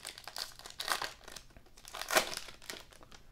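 Panini basketball card packs are torn open in a few bursts of close, crisp foil crinkling and ripping, separated by brief quieter pauses, with no talking.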